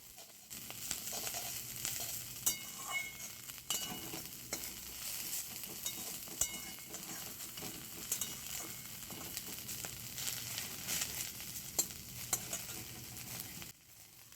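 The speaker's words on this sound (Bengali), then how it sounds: "নুন দেওয়ার পর আবার শাকটাকে ভালো করে নাড়াচাড়া করে নিতে হবে" Fenugreek greens are stirred in a frying pan, with a soft continuous sizzle under repeated scraping and tossing strokes, quiet and close.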